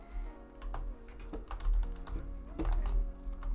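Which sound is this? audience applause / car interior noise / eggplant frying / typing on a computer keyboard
typing on a computer keyboard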